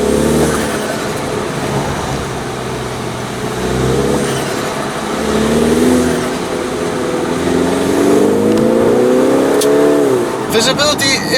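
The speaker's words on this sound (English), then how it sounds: "You actually really enjoy the turbo sound in this car." A 2019 MINI Cooper S Countryman ALL4 turbo engine pulls steadily as the car accelerates on a closed road, its rising engine note loud and close throughout, with a person talking over it.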